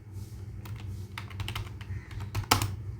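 Keys clack on a computer keyboard in an irregular run of taps at close range, with one sharper, louder strike near the end, and no voices.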